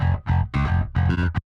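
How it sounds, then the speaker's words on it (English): Bass guitar run through a distortion plugin for a Tesseract Juno mix, with controlled low end and gritty top, playing several loud, close, sustained notes in short phrases before cutting to silence. "you hear the bottom of the bass being controlled and the top end being controlled too, as well as distorted."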